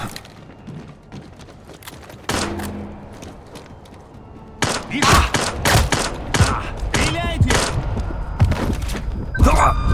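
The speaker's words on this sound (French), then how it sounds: "On nous tire dessus!" Gunfire erupts in the stealth action game Splinter Cell Blacklist: loud bursts of shots and impacts, sparse at first and then dense rapid volleys, with voices shouting in the mix.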